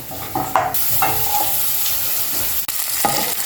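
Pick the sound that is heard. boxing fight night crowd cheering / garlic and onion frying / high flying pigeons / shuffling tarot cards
garlic and onion frying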